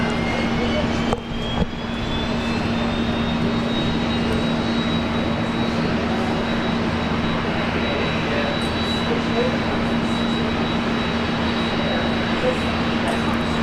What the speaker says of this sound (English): here we go, the 330's rolling